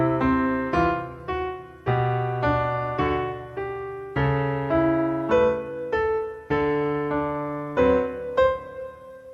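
Piano playing measures 3 and 4 of the Butterfly Etude in a late intermediate arrangement: a steady run of clear, ringing notes with sustained bass tones underneath, played solo with no talking.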